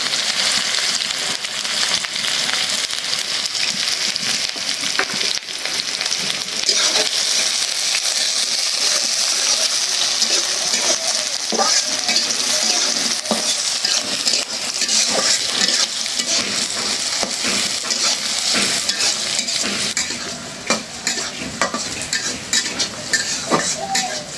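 Garlic, onion and green chili sizzle and fry in a pan, a steady loud crackle that runs throughout, with occasional stirring and utensil clinks against the pan.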